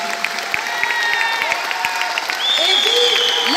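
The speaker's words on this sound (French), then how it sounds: "Merci beaucoup, on peut l'applaudir s'il vous plaît." Audience applause at an exhibition in support of the Palestinian people, a dense roomful of clapping that swells slightly louder toward the end, with a voice talking over it.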